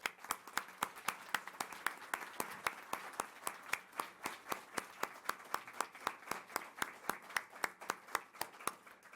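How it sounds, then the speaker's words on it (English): Clapping closes a school board candidate forum, heard as a steady, evenly spaced series of hand claps at about four per second. The claps are faint and sound like only a few people, with no voices over them. "Please join me in thanking the candidates with your applause."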